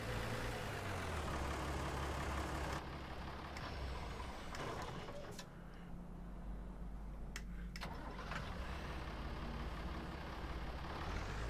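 Tractor fitted with a Quicke front loader idling in Farming Simulator 19, a steady, loud low engine drone throughout, broken by a few brief clicks and tonal blips, with no talk.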